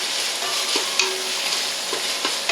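Onions softening in butter for a cabbage vegetable soup, giving a steady, close sizzle broken by a few soft scrapes and clicks of a stirring utensil.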